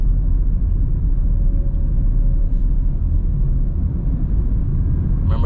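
A car drives through a residential community road in Cassisa Park, Kingston, Jamaica, heard from inside as a steady, loud low rumble of engine and road noise with no talking.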